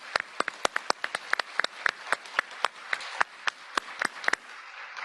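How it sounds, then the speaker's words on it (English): Applause from an audience at a scientific summit on cognitive aging, a dense patter of sharp individual claps continuing steadily throughout, fairly close and without talk. "So one more round of applause for our speakers."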